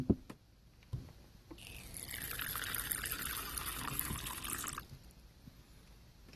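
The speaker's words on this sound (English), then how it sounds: "Get some water in there for him" Water pours into a tarantula enclosure in one steady, close stream lasting a few seconds, framed by light handling knocks before and after.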